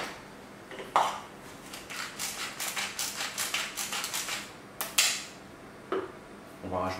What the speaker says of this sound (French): On va poivrer.